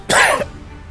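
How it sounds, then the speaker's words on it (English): A single sharp cough, close and loud, short and dry, followed by quiet room noise. "Stop coughing."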